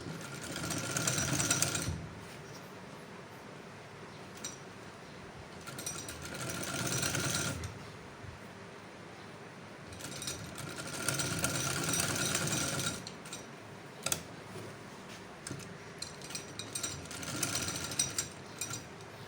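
A sewing machine in a tailoring class stitches fabric for a band collar, running in several bursts of steady mechanical whirring separated by short pauses, with light background noise between runs.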